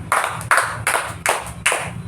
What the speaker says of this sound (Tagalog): Ngayon, bigyan natin ang ating sarili ng 5 palakpak.